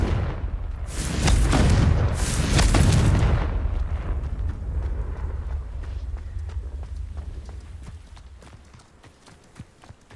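Confringo blasting curse fired in Hogwarts Legacy on Xbox, a loud booming burst that swells and rumbles for a couple of seconds, then fades into lighter game sounds and scattered clicks.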